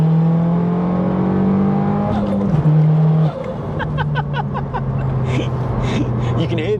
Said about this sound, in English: You can hear the exhaust open